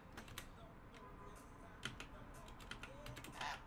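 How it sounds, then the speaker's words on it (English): Computer keyboard keys tapped in short irregular bursts during live coding, close and fairly quiet over a steady room hum, with a denser flurry of clicks near the end. "I can't remember how to type slash on my keyboard."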